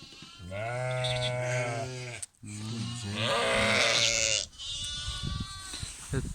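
Sheep and lambs bleat repeatedly at feeding time on a farm, with long harmonic calls close by, a short pause, then more overlapping bleats and some rustling.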